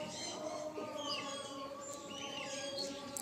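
Pigeons in a loft chirp and call softly throughout, a steady layered chatter of birds at moderate distance with faint background noise and no clear talk.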